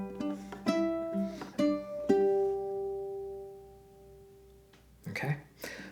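Ukulele plays a bar of Queen's Bohemian Rhapsody, a few plucked and strummed notes with a hammer-on, a sustained chord ringing out, then two quick strums near the end.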